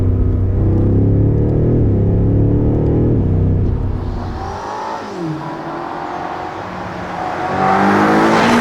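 BMW M5 Competition engine and exhaust, a loud deep rumble that eases off midway, then builds again in rising revs, heard alone without talk.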